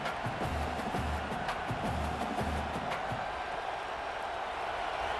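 Stadium crowd at a Penn State versus Michigan college football game, a constant distant roar with some low rumbling thumps early on and no single voice standing out.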